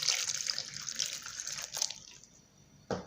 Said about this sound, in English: Then add water so that you can blend.